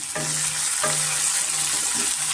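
Capsicum, carrot and peas sizzle in hot oil in a pan, a close, steady hiss with a few soft stirring scrapes and no talking.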